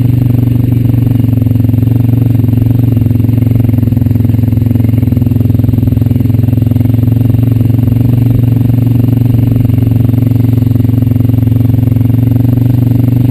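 A Honda Rancher 420 ATV engine drones steadily and loudly at cruising speed along a farm road near tobacco fields, a constant low hum with faint clatter and no talk.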